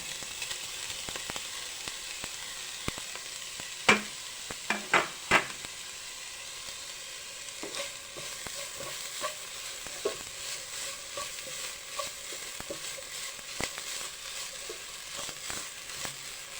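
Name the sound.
grated coconut added to stir-fried thoran in pan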